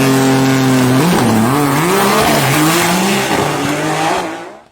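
Drag racing cars at a South Dakota track roar loudly with a sustained, rising engine drone and shifting pitch through gear changes, close and continuous before fading at the end.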